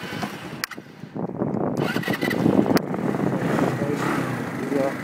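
A TGB R125X motorcycle engine, about a year old and prone to stalling, cranks and catches, then runs at a steady close idle with a rough broadband drone and some wind noise.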